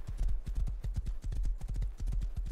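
Rapid clip-clop of horse hooves galloping in the survival video game Rust, a fast, even drumming rhythm of close, loud hoofbeats with no talk.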